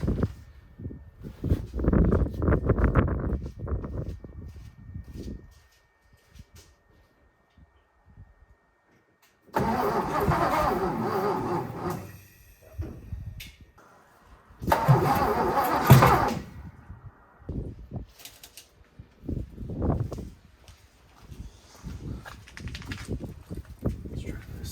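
A 1957 Lincoln Premiere engine cranks in several separate bursts, each a few seconds of grinding starter noise, with quiet gaps between attempts and faint murmurs in the pauses.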